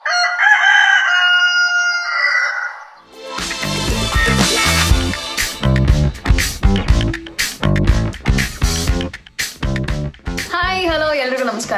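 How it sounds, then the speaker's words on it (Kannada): A rooster crows once in a long cock-a-doodle-doo at the start, then loud rhythmic music takes over for the rest of the clip. "ಕೊಕ್ಕೋಕ್ ಹೆಂಗ್ ಕೂಗುತ್ತೆ ಅಂತ ನೋಡೋಣ."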